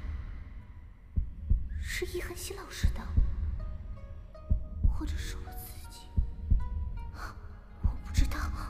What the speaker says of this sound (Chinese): 心跳声是爷爷的吗？